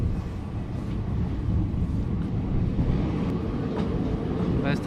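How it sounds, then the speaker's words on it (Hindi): A passenger train pulls into Ajmer Junction, heard from inside the carriage as a steady, loud low rumble with faint rattling and a few light metallic clicks near the end. "5 घंटे के लंबे सफ़र के बाद हम पहुंच चुके हैं अजमेर जंक्शन और अभी हम ट्रेन से उतरने की तैयारी में हैं"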